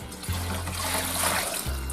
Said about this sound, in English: We're also gonna put our dissolved candy sugar in there.